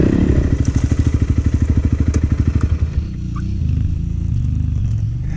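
A small 300 motorcycle with its tyres let down rides on soft desert sand, its engine loud and close with a fast, steady pulsing throb that shifts to a smoother drone partway through.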